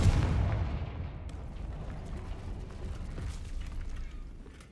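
A Confringo blasting spell explodes in the Hogwarts Legacy video game, a single heavy boom that decays into a long rumbling tail, loud and with no other sound over it.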